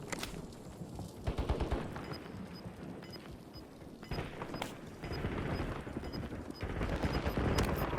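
Gunfire in a battle royale video game: bursts of rapid shots and single reports crack over a rumbling background, intensity rising toward the end, with no clear talk.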